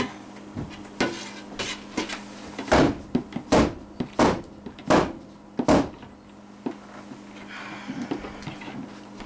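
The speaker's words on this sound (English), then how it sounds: "let me tap this down" A mold filled with raspberry ripple hemp oil silk soap is tapped down on a hard surface. About a dozen sharp, loud knocks land close by at an uneven pace, with quieter rustling between them.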